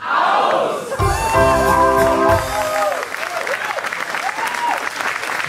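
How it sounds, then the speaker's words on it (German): Applause from a carnival hall audience at a German Karneval show, a dense roar of clapping with cheering voices and a brief sung or shouted chant partway through, loud and sustained throughout. "Ich bitte um ein bisschen Applaus"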